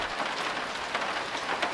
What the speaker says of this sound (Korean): 후둑후둑 빗방울 떨어지는 소리가 들리기 시작했다